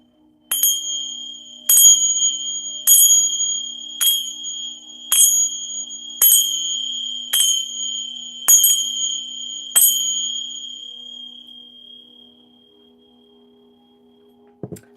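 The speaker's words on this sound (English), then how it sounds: "I'm going to go ahead and clear the space in the room with my sacred bell chime." A sacred bell chime used for clearing a room rings out nine times at a steady pace, each bright metallic strike ringing on and overlapping the last, then fading into a long sustained tone before a small knock at the end.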